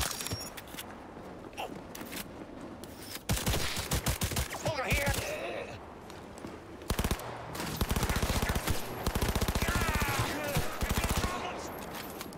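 Smart gun fire in Cyberpunk 2077 rattles out in rapid bursts, loud and close, with brief pauses and clattering between volleys.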